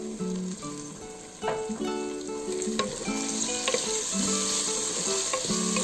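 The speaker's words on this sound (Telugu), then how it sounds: "ఒక 1 మినిట్ ఫ్రై చేసుకున్నామండి" Tomato, green chillies and curry leaves frying in hot oil for Telangana country chicken curry, a loud continuous sizzle with stirring scrapes and clanks of the spatula against the pan.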